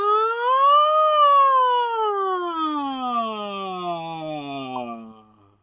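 A vocal siren from a singing warm-up: a voice glides smoothly up and then slowly down in pitch in one long, clear, sustained sweep, imitating an emergency siren.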